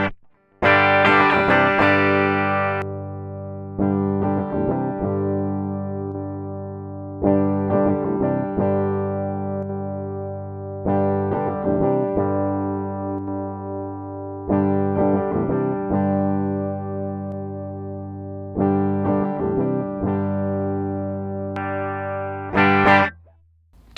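An electric guitar with its tone knob rolled fully off plays a repeating sequence of chords through distortion, each one struck hard and left ringing out, dark and muffled, with no talking.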